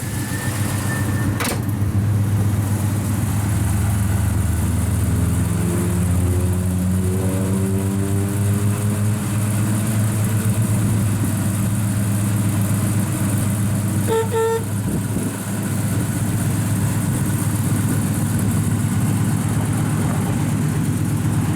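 A 1970 Chevrolet Chevelle SS with a replacement 454 V8, headers and dual exhaust idles with a steady, deep rumble that holds throughout, with a brief click and a slight dip in sound partway through.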